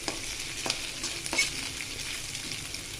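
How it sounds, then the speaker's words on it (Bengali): An egg fries in a pan for egg chowmein, giving a close, constant sizzle broken by quick stirring scrapes of a spatula. "একটু ভাজা টাইপের হোক ডিমটা, নাহলে কাঁচা গন্ধ হবে।"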